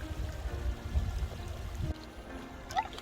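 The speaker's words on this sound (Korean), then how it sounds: "물소리가 좋구만요." Water flows and pours in a rocky stream where someone wades barefoot gathering freshwater snails, a steady close splashing trickle that thins out near the end.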